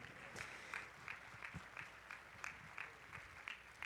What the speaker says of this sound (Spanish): ¿Cuántos están contentos de estar en la casa del Señor? Vamos, dele ahí un fuerte aplauso,